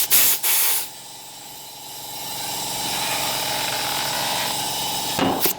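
A compressed air nozzle hisses loudly while inflating a Yamaha Wolverine ATV tire to seat the bead, with short bursts at the start, then a long steady rushing blast, and a final sputter near the end.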